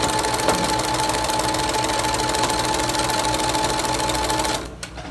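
A sewing machine stitches a face mask seam in a continuous, loud, close rapid whir with fine needle ticking, stopping abruptly just before the end.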